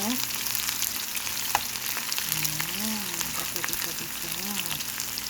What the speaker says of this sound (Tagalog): Ayan, nakita na natin na medyo gisa na ang sibuyas.